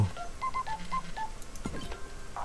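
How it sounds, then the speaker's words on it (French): Telephone in the video game Scrap Mechanic, a short series of beeping dial-like tones followed by a brief electronic rattle, clear and close with no talk. "Un téléphone."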